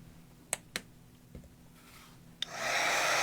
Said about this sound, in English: And then I will take my embossing tool,